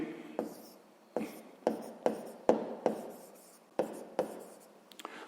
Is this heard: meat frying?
no